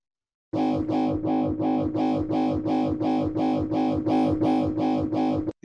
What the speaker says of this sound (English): Distortion is nice.